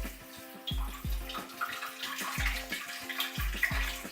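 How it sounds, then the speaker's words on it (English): Cold tap water runs steadily over freshly blanched spinach in a kitchen sink, a continuous close splashing rush with a recurring low thud pattern underneath, no talking. "I need to have the spinach have cold shower."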